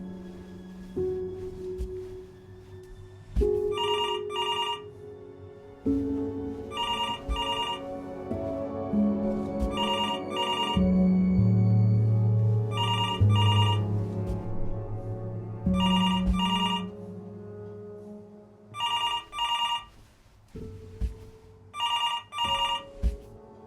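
A telephone bell rings repeatedly in the video game Before Your Eyes, in evenly spaced bursts over a sustained, swelling musical score that drops away near the end, leaving the rings more exposed.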